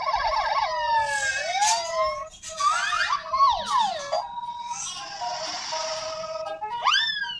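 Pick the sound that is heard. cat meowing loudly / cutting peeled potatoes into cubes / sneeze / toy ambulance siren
toy ambulance siren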